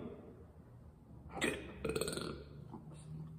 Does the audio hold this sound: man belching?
yes